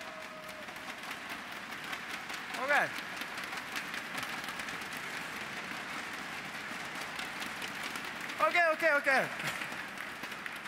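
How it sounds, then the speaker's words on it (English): A startup event audience shakes and taps foam noodle clappers, giving a dense, rain-like patter under the room's hum, with brief talk from a presenter at two points. "So let's give a big noodle clap or whatever you call it."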